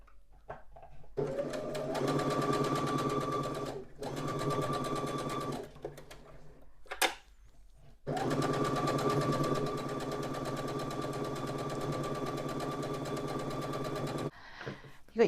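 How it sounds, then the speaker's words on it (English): A sewing machine stitches quarter-inch seams around all four sides of a quilt block in long steady runs, its fast even whir stopping briefly between passes, with faint handling sounds in the pauses. "I'm going to sew all the way around all four sides with a 1/4 inch seam."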